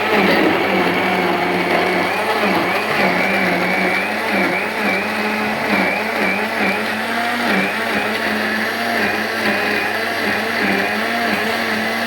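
An electric blender whirs continuously, blending guava with cold water into juice; the motor holds a loud, steady drone throughout the whole stretch, with no voices.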